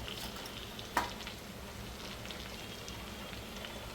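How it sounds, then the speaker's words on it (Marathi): Red chilli powder, garam masala and onion-garlic masala fry gently in a pan, a soft continuous sizzle with one sharp clink of a spoon early on. "तुम्ही बघू शकता कसं फ्राय होत आहे, व्यवस्थित तळल्यासारखं हे होते"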